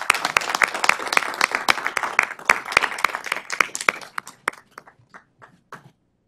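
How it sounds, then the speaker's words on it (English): Attendees at a CPS Energy board of trustees meeting applaud a team, a smallish group clapping briskly with distinct, close claps that thin out and fade to a few scattered final ones. "can we get a round of applause for our RS team?"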